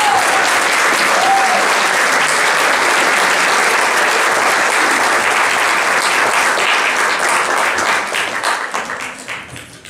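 A large audience at an award ceremony honoring women's philanthropic work applauds in a thick, even wash of clapping that holds steady and then tapers off in the final seconds.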